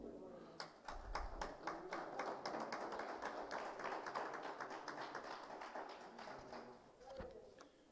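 Dense, steady applause from an audience at a university ceremony honouring retiring teaching and administrative staff, with many claps overlapping for several seconds before fading near the end, voices faintly mixed in.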